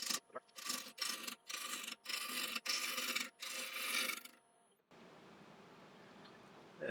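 An applewood blank spins on a woodturning lathe at about 950 RPM as the gouge knocks its corners off, giving loud, rough, intermittent rasping bursts in quick succession before dropping to a steady quiet hum of the running lathe.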